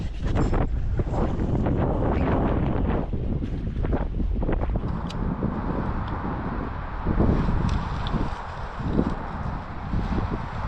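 A strong westerly wind of about 30 knots blows along a rugged Australian coastline, roaring and buffeting the microphone loudly and continuously, with gusts rising and falling throughout.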